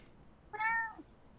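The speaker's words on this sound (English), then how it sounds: "My cat's come to say hello" A pet cat gives a single clear meow at close range, rising and then falling, with quiet room background before and after.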